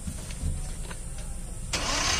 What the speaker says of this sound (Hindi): गाड़ी स्टार्ट हुई